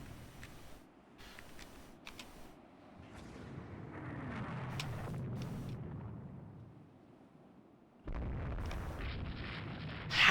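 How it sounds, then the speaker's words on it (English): Naval torpedoes fire in the warship strategy game Rule the Waves 2, a series of muffled booming whooshes that swell and fade, followed by a sudden louder rumbling burst near the end. "we're firing torpedoes at them"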